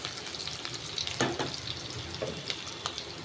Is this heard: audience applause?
no